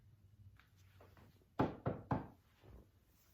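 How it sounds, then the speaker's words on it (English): Three loud knocks on a front door, spaced in a quick uneven rhythm and close by, with faint softer taps before and after and no talking. "He knocked on the front door."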